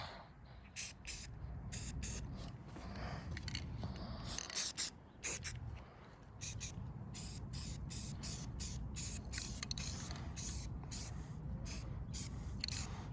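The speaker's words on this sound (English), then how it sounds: "and do the spray paint" Short hissing bursts of a spray paint can, fired in quick repeated spurts with brief pauses, close by and fairly quiet, while repairing roof flashing.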